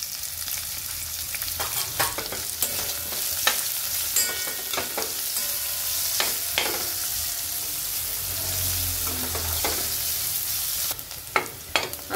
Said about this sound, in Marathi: आता आपला कांदा परतलेला आहे।